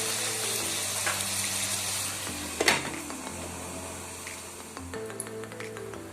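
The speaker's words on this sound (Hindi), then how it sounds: "और अभी इन सभी सब्जियों को हम तेल में अच्छी तरह से फ्राई होने के लिए रखेंगे" Vegetables frying in oil over a low flame for a soya veg pulao give a soft, steady sizzle with broad hiss and one brief clatter partway through, faint and without talk.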